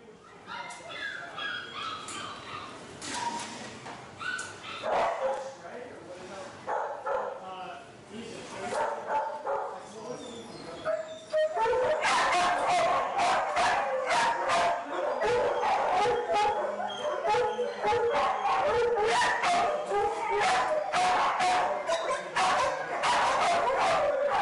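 Several dogs bark, yip and whimper in animal shelter kennels, sparse and echoing at first, then a loud, dense chorus of overlapping barks for the second half, with a person talking beneath.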